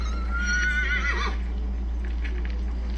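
Horse on a ranch lets out a single rising and falling whinny, fairly close, over a constant low hum and steady background noise.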